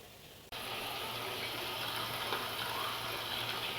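Tap water starts abruptly and then gushes steadily into a container during clothes washing, a constant, close rushing sound with no voices.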